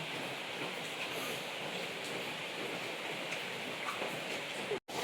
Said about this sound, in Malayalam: മഴ ഇങ്ങനെ ചാറിക്കൊണ്ട് നിൽക്കുന്നുണ്ട്.